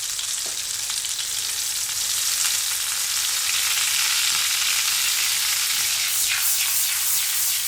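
Lobster pieces frying in butter in a pan, a steady loud hiss and crackle of sizzling fat that continues throughout with no talking.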